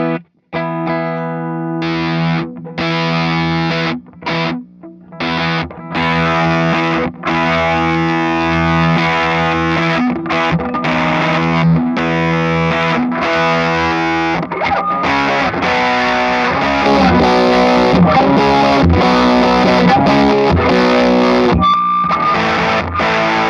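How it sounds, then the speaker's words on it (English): An electric guitar through a classic fuzz pedal grinds out thick, saturated power chords, loud and close, with a few choppy stops early on before settling into sustained, noisy strumming that grows denser near the end. "This is like a classic fuzz design."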